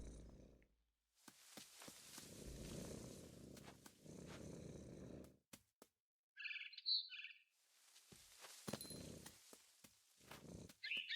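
Scattered bird chirps inside the video game What Remains of Edith Finch, a brief cluster of bright tweets mid-clip amid soft footsteps and rustling movement, with gaps of near silence.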